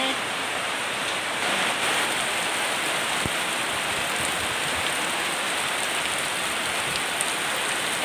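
Heavy rain pours down steadily, a dense, constant hiss of drops hitting surfaces close by with no let-up.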